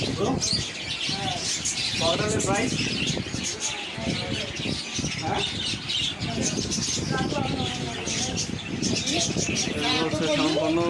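Caged birds in a bird shop in Rangpur chirp and tweet in quick overlapping bursts, with some cooing, all under fairly loud nearby human talk.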